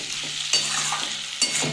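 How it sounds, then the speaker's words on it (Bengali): Fish egg curry with potato and parwal sautéed in a pan, with soft sizzling under a couple of sharper spatula strokes, close and continuous. "আর একটু কষিয়ে নেব।"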